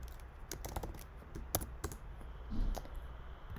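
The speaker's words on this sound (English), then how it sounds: "Type in what you want it to say." Text is typed on a computer keyboard, quiet uneven clicking keystrokes in short bursts with a few sharper taps, close and alone.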